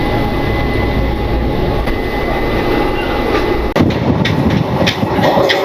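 A passenger train on the Odisha coast line between Puri and Gopalpur, heard from on board as a loud, continuous rumble of wheels and carriage with rhythmic rail clicks.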